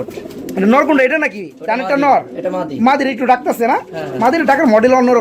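Pigeons coo in a sale loft while someone talks loudly and nearly continuously over them, the birds' low calls mostly buried beneath his voice.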